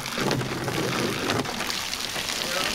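Cold water pours and splashes steadily into a pool, a dense rushing, spattering wash heard close up with no pauses.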